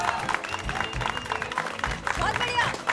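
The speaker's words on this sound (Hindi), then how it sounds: "मारना ताली, ताली मार, मार ताली" Several hand claps ring out in quick succession in a lively comedy scene, mixed in with people talking over them.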